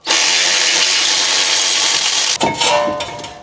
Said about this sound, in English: one of these cordless electric ratchets. Once I got these bolts loose, you can just spin these off